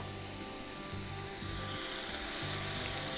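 Ginger garlic paste fries in oil in a pan with a steady, moderate sizzle. Faint scraping stir strokes sit under it, and the fry grows slightly louder toward the end.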